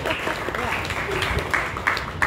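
Audience clapping and cheering at a Hindi comedy poetry gathering, a steady wash of applause throughout with brief louder bursts near the end.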